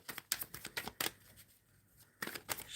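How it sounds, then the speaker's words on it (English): Tarot cards are shuffled by hand in quick riffling bursts, a run of crisp flutters, then a pause, then another burst, close and fairly quiet with no talk. "Shuffling for Helga."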